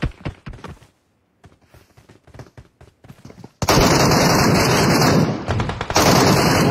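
Video game gunfire: scattered single shots and quiet gaps give way to a loud, sustained burst of automatic fire with a high ringing tone, which dips briefly and then resumes.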